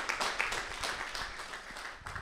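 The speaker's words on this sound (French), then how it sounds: "on les applaudit tous les trois" An audience claps for three speakers at a care-assistant training institute event in Caen, a brief burst of dense, fairly soft applause sustained throughout.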